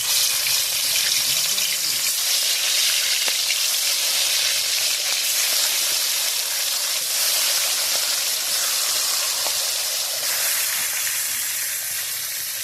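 Roti frying in a pan over a village wood-fired clay stove gives a steady, loud broadband sizzle and hiss that runs unbroken throughout, with faint voices in the background.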